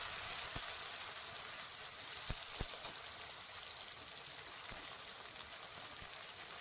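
Chopped onions hitting hot oil in a pan with whole garam masala, bay leaves and dried red chillies, a steady close sizzle and crackle with a few sharp pops, no talking.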